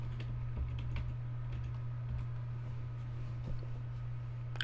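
Quiet keyboard typing while a password is entered, a run of soft irregular clicks and taps, close-miked over a steady low electrical hum, with no voices.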